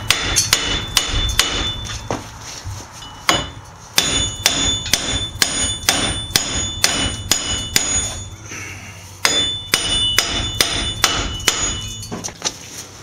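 A heavy hammer pounds the front wheel bearing hub of a 1992–1999 Pontiac Bonneville in a run of loud, close metallic blows, some in quick bursts and others spaced apart, with brief pauses between groups and no talking.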